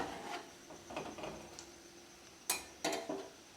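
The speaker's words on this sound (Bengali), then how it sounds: "এবার আমি এর মধ্যে দিয়ে দিচ্ছি স্বাদ মতো চিনি, দিয়ে এটা আবার ভালোভাবে আমি নেড়ে দিচ্ছি।" Lau dal, a bottle gourd lentil dish with sugar just added, gets stirred in a pan, giving soft scraping rubs and a few sharper clinks of the spoon against the metal. The sounds are quiet and intermittent, with no voice.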